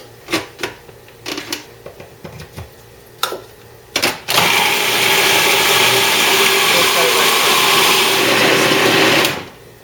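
A food processor blending six eggs with garbanzo beans starts up after a few clicks and knocks, then runs with a loud, steady whirring drone for about five seconds before cutting off.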